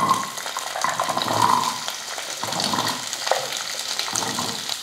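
Small onions (shallots) sautéing in a little leftover oil in a kadai, a steady soft sizzle with faint hissing and occasional stirring, continuous and close without any talk.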